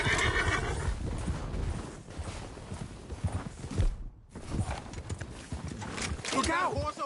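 A horse whinnies and snorts among clip-clopping hooves in the Red Dead Redemption 2 video game, with voices talking over and between the neighs throughout.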